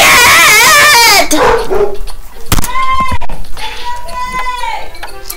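A dog yelps and whimpers in high, wavering cries, then gives short barks and further whines up close, loud and repeated across the stretch, with some voice mixed in.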